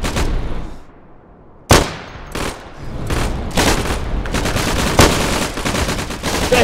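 Gunfire in the World War II shooter Day of Infamy: loud, sharp rifle and sniper cracks, including one heavy single report after a brief lull, then sustained bursts of distant automatic fire.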